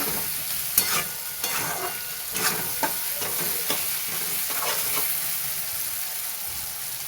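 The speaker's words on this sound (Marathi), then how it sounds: "शेंगदाणे पण टाकून घेऊया चांगलं परतून घ्यायचं याला" Peanuts are sautéed in a pan for kanda poha, with a steady sizzle and repeated scraping strokes of a spatula, close and moderately loud.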